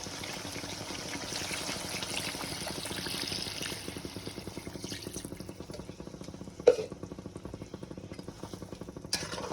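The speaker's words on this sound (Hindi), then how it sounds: "अब इसमें मैं पानी शामिल कर देती हूँ।" Water pours steadily into a pot of browned aloo gosht (potato and meat curry), with a continuous splashing, bubbling rush and a couple of sharp clinks, fairly faint and with no talking.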